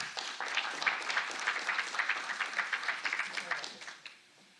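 A conference audience at a political communication congress in Peru applauds a speaker being introduced, a dense wash of many hands clapping at steady volume for about four seconds before fading out, with a bit of crowd noise mixed in.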